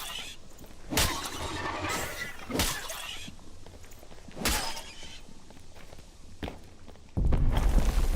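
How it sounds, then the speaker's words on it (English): Footsteps in the game Dark and Darker: a few sharp, irregularly spaced thuds on a hard surface over faint ambience, ending in a sudden louder rumble. "Like I thought I heard footsteps"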